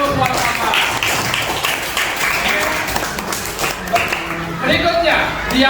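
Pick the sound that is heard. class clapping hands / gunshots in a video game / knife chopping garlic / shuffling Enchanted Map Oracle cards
class clapping hands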